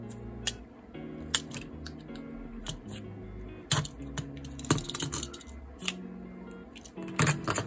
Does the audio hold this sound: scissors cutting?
yes